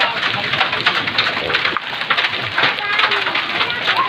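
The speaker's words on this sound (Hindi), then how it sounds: "पत्थर का बारिश होता हुआ" Hailstones pouring down in a storm in a village near Muzaffarpur, Bihar, a dense steady clatter like heavy rain with no pauses, continuing throughout. A voice talks faintly underneath.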